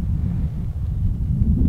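Strong wind buffets the microphone in the open Hawaiian high country, a steady low roaring rumble that persists loud and unbroken with no voices.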